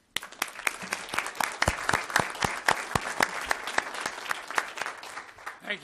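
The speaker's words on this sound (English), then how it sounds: "And they join me now in applauding you for a job well done." Applause from a council meeting audience, many hands clapping steadily with sharp individual claps standing out, fairly close and sustained for several seconds without speech.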